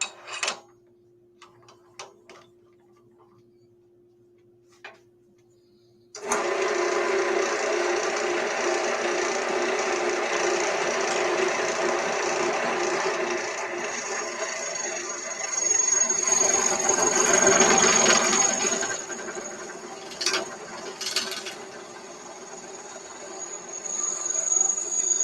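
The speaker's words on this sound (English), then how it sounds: "Turn up the speed just a little bit. And my lathe doesn't like it, so I'm going to turn it down." A wood lathe bores into a workpiece with a large Forstner bit. After a few quiet seconds with faint clicks, a loud, steady mechanical whine and grind starts, then surges rougher partway through.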